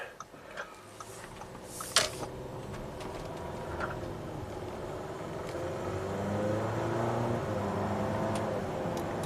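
A 2017 Audi Q7 SUV with a 2-liter turbo engine accelerates on a road drive, cabin engine and road noise swelling gradually beneath a few clicks and knocks, fairly quiet overall.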